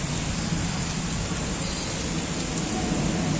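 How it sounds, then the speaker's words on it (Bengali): A Bangladesh thunderstorm with heavy, dense rain pouring down in a loud, constant wash of noise, heard outdoors during a power cut amid strong wind. "বৃষ্টিটা আমার সাথে চলে আসছে"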